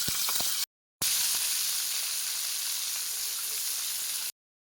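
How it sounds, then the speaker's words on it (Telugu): Green chillies and onions frying in hot oil in a pan, a steady close bright sizzle with brief gaps, no one talking. "పచ్చిమిర్చి వేయించుకోవాలి. దీంట్లోనే ఉల్లిపాయలు కూడా వేసి వేయించుకోవాలి."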